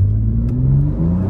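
A 2016 BMW 435i convertible revving as it accelerates, its engine note climbing in a steady, loud, close drone with a brief dip near the end; no talking.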